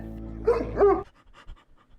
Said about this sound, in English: this dog's anxious as fuck